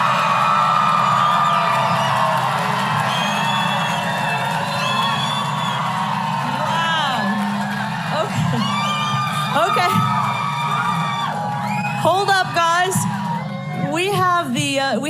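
A large Arizona political rally crowd cheers, whoops and yells in a loud continuous roar, while a voice speaks briefly over the din near the end.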